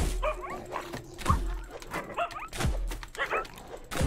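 A dog in a video game barks, yips and whimpers in short repeated bursts, fairly close and loud, with brief whines between the sharper yelps.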